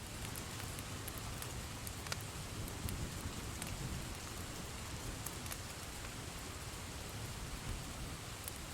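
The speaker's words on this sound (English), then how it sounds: "It's raining." Steady rain falls through a still night, a dense, even hiss with scattered brief drip ticks, continuous and moderately close, no voices.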